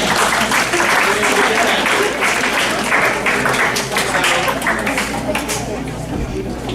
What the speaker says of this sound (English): So I'm going to clap for you.